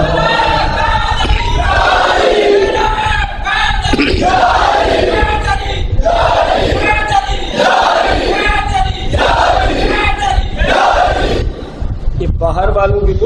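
Crowd at a religious gathering, a Shan e Ahl e Bait mehfil, chanting a slogan back in loud unison, with repeated surging shouts over a steady din of voices that continues for the whole stretch.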